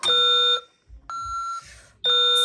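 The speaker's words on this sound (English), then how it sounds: "If a fire alarm occurs, Fire. Alarm." A Honeywell Vista security keypad sounds its fire alarm, a loud, piercing electronic tone pulsing on and off in long bursts, with no talking.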